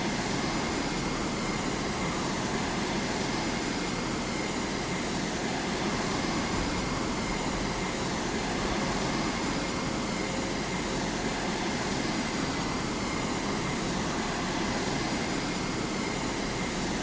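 In the video game Carrier Command 2, an aircraft's engine roars in a steady, dense, unbroken drone as it takes off from a runway, loud and constant throughout with no voices.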